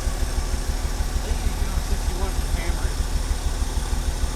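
A Ford Bullnose pickup truck engine runs rough after washer, power steering and brake fluid were added, giving a steady, loud low idle rumble with uneven pulsing throughout.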